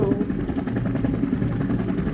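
Steady droning roar of attacking planes flying overhead in a Roblox game, a continuous buzzy engine hum held at even loudness for a couple of seconds with no talk over it.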